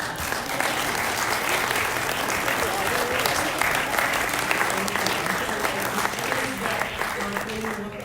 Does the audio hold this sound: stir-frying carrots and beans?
no